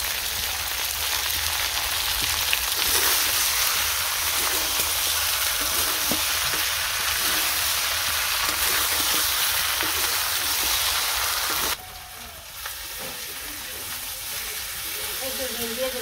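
Broth poured over browned meat in a village-style pan sets off a loud, continuous sizzle and hiss like rain on a surface, with stirring, then drops briefly and resumes.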